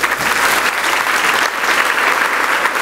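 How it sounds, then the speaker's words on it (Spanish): A church congregation applauds for Jesus during a Wednesday service, a loud, sustained wash of clapping that fills the room evenly from start to finish with no break. "Y denle otro aplauso a Jesús"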